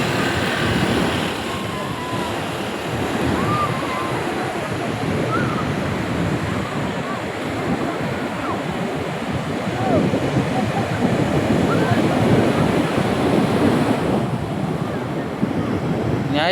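Ocean waves washing onto a clean beach, a steady broad roar of surf with wind buffeting the microphone throughout, continuous and fairly loud.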